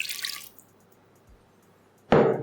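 Water poured into a lemon-juice batter as it is mixed thin, heard as two short splashy bursts, one at the start and a louder one near the end, with quiet between.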